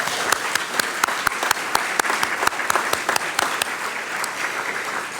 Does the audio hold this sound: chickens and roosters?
no